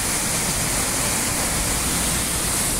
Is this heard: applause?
no